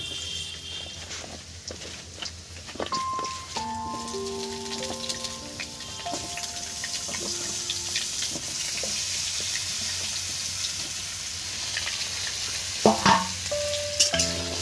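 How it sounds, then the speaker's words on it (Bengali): Papaya pieces sizzle and crackle in hot oil in a pan, with stirring and scraping sounds and a few faint clinks over a steady frying hiss. "প্রথমে দেখুন পেঁপেগুলো আমি তেলের মধ্যে দিয়ে দেবো।"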